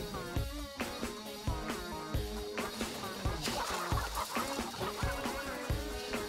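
Chickens on a small village poultry farm cluck and squawk in a busy flock, overlapping calls over a steady rhythmic thumping beat in the background.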